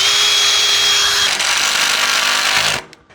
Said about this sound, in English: I'll just pre-drill